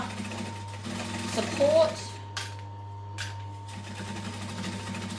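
Sewing machine stitching a duffel bag, a steady mechanical hum with light clicks and a short burst of faster stitching, heard quietly beneath a voice.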